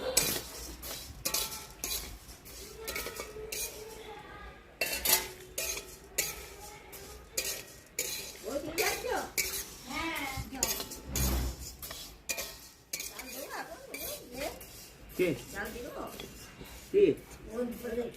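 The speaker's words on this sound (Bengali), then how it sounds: "মুগের ডালটা ভেজে নিই।" Mung dal is dry-fried in a wok for vegetarian khichuri, with repeated spatula strokes scraping and clinking against the metal and a faint sizzle. The sounds are close and come in uneven bursts, with people talking over them.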